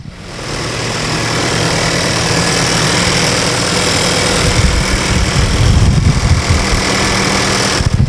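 A 2019 Volkswagen Jetta R-Line's 1.4-liter turbo four-cylinder idles steadily, miked close under the hood, a smooth continuous hum with light ticking texture and no voices.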